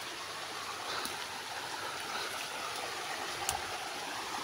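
Flood water rushing steadily through a forest after heavy rain, a broad continuous wash of flowing water with no voices.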